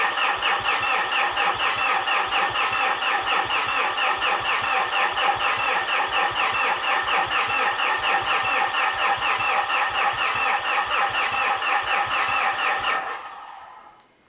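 Mitsubishi Fuso FG truck engine cranking without starting, a steady rapid rhythmic churn of the starter lasting about thirteen seconds before cutting off, loud and close.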